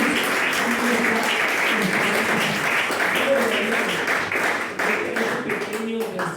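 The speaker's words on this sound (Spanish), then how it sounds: "Den un aplauso fuerte al que vive en los cielos." A church congregation breaks into loud, sustained applause in praise, dense clapping filling the room with voices calling out underneath throughout.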